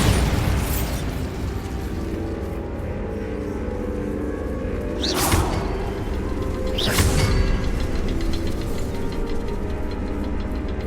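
Bombarda spell explosions in Hogwarts Legacy, two sharp blasts a couple of seconds apart that rise out of a constant low ambient rumble and then fade.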